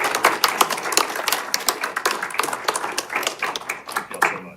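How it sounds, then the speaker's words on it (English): Audience applause at a city council meeting, a burst of dense clapping from many hands that swells and fades over a few seconds, with a voice briefly heard. "let's give them one more round of applause"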